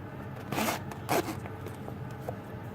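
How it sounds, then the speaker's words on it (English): A zipper on a goggle-shaped Montegrappa Aviator pen case is pulled open in two close, rasping strokes, followed by softer handling scrapes in a quiet room. "And so we zip it open."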